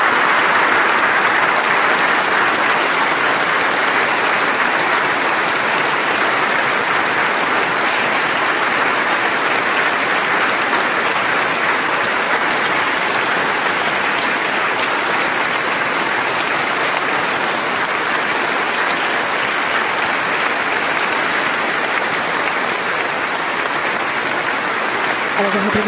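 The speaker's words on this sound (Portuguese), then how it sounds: "E os aplausos continuam." Sustained applause from a large audience fills Oslo City Hall, a dense, steady wash of clapping that holds at even loudness without letting up.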